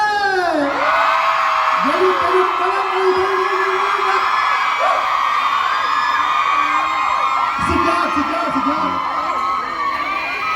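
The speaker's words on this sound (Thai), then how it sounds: "แบบขอให้กรี๊ดแบบห้างแตกเลยได้ไหมพร้อมๆกันเลย" Fans at a Torriden pop-up store grand opening scream and cheer together, a loud sustained wall of high shrieks and whoops that fills the whole stretch, with a voice talking briefly over it.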